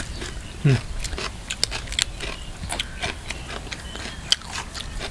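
Crunchy biting and chewing of food, an old-style snack with chili, in short close bursts with one loud bite near the start and softer crunches after.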